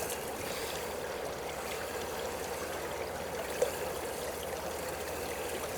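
Water swirls and sloshes softly in a gold pan while panning at the Klondike Gold Rush site in Dawson City, Yukon. A quiet, steady wash runs throughout, with one small knock midway.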